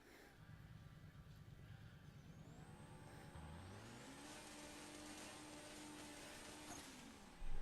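A Ferrari drag racing car pulling away at a no-limit drag race, heard from a distance as a rising engine tone that climbs through several gear shifts, with crowd and track noise around it.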